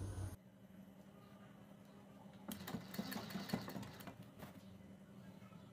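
A sewing machine stitches over a thread laid on a kurti neckline, a quiet, close run of needle chatter in the middle of the stretch with faint background hum before and after.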